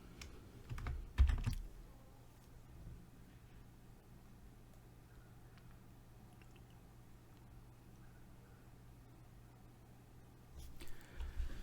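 Computer keyboard typing while writing trading-indicator code, a short close burst of key clatter at the start, then a long quiet stretch of faint low hum before a few more keystrokes near the end, with no talking.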